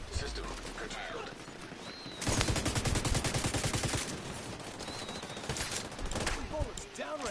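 Sustained automatic gunfire in the shooter game The Division 2, a dense rapid burst of shots lasting a couple of seconds amid scattered single shots, with game voice lines and other talk over the top.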